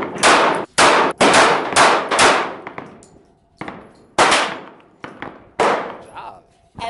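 Gunshots hitting steel targets at a shooting range: about eight sharp, loud bangs with ringing metallic clangs, spaced irregularly with short decaying tails between shots.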